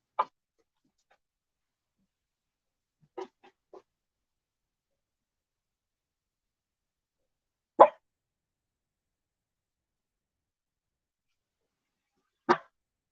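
A dog named Maisie gives a few isolated barks, spaced several seconds apart with silence between, short and fairly clear, with no other sounds.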